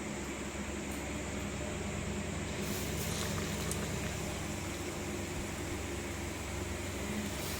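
Battered raw banana slices sizzle in hot oil for bajji, a steady, even hiss of frying that carries on without a break.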